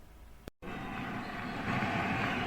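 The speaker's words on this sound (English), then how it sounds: "The runaway train is coming." A runaway train approaching a station, heard as a steady low rumble that resumes after a brief cut and gradually swells louder, with no voices.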